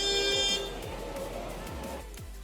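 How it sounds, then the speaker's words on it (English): Car horns honk in busy Indian street traffic near the Taj Mahal Palace: a loud, sustained blare for the first half-second, then a constant rumble of traffic with fainter horn bursts. "The non-stop honking."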